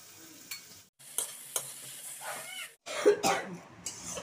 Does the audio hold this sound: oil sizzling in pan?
yes